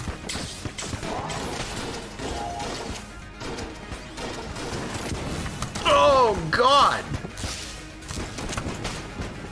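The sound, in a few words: explosions in video game Exit the Gungeon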